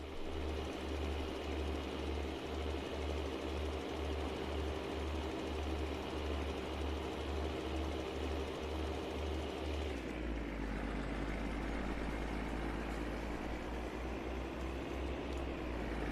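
Tractor engine in a farming video game, a steady low droning hum heard faintly from far away, with a rhythmic pulsing chug that smooths into a continuous rumble partway through.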